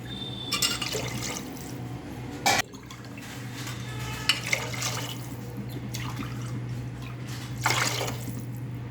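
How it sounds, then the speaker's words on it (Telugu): Water is poured over rice in a pot, coming in short splashing bursts and trickles over a low steady hum. "గ్లాస్ బియ్యానికి గ్లాసున్నర వాటర్ యాడ్ చేసుకుందాము."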